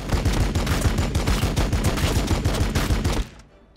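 Rapid automatic gunfire from the video game Warhammer 40k Battlesector rattles in a loud, dense burst lasting about three seconds, then cuts off abruptly.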